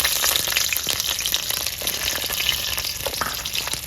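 Garlic fries in well-heated oil in a village-style kitchen, making a loud, steady crackling sizzle that runs without a break from start to finish.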